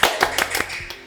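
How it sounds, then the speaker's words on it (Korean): Children at a summer Bible school class clap together, a quick run of about six sharp, evenly spaced claps close to the listener with no talking. "박수!"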